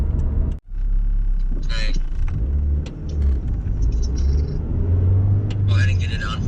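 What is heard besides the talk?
Saturn SC2 car driving down the road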